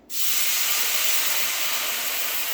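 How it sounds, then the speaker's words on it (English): Cognac poured into a hot pan of steak drippings to deglaze it, bursting into a loud, steady, close sizzling hiss that starts abruptly and holds without letting up. "we're going to go ahead and flambe, or basically deglaze our pan"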